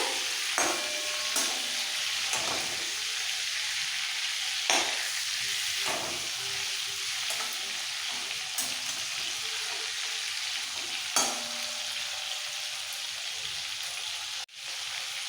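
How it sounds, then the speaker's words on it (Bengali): Prawns frying in hot oil, a loud continuous sizzle with spatula stirs and scrapes scattered through it, and one louder clatter near the end. "হালকা ভেজে ওকে মিক্স করে তুলে নেব"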